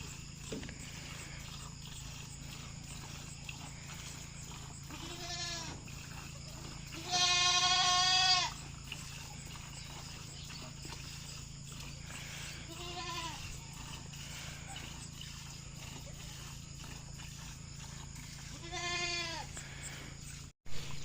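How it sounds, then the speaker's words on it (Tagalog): A newborn goat bleats several times with thin, wavering cries spaced across a quiet farmyard background, one call louder and closer than the rest. "Ito yung bagong panganak na kambing."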